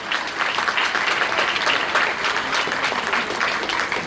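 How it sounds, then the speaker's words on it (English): Audience applause at a school annual prize distribution ceremony, a dense steady wash of many hands clapping at moderate volume, continuous and without voices. "A loud applause for all of them."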